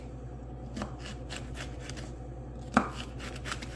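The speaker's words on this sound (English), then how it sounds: "I chopped up all my peppers and onions" A knife chops bell peppers and onions on a cutting board with a loose series of close, soft taps and one sharper knock near the end, over a low steady background hum.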